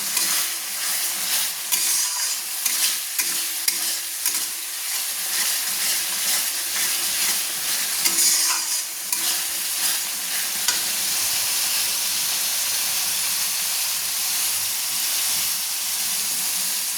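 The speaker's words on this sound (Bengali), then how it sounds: "দেখুন মশলাটা আমার কষানো হয়ে গেছে, তেল ছাড়ছে সুন্দর" Packaged chicken masala sautés in oil in a pan with a steady, hissing sizzle, overlaid by repeated scraping stirs and occasional clinks during the first half, then a smoother continuous fry, with no voices.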